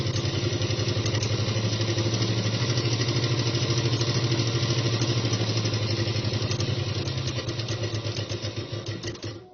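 A sewing machine stitches pant fabric at a quarter-inch seam gap, a loud, rapid, steady mechanical clatter running continuously before slowing and stopping at the end.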